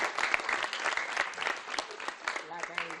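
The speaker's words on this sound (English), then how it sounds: "You have to clap for yourself." An audience at a sports event in Anambra State claps for itself, a steady spread of many hands clapping with some voices mixed in around it.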